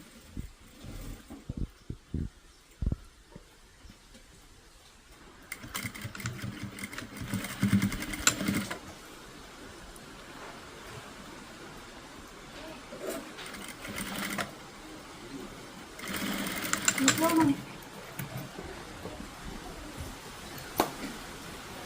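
A sewing machine stitches two garment pieces together during a large tailoring order, running in several separate bursts of steady whirring with quieter handling pauses between them.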